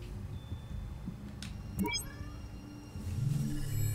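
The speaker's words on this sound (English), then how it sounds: "Hi, kitty." A cat meows inside a modified train car in the Telltale Batman video game, a short, faint call amid a low game ambience with a few electronic tones and a deeper rumble near the end.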